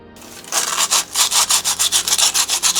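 Rhythmic back-and-forth sanding of fiberglass-coated straw: about a dozen quick, close, raspy strokes in steady succession.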